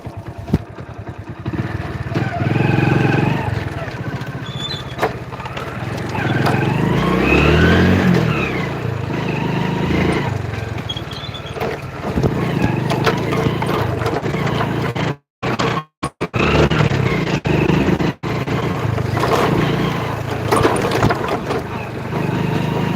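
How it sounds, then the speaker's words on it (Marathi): A car being driven home, with a steady engine and road rumble throughout and a few brief dropouts partway through. "मी गाडी चालवतो घरी चाललोय"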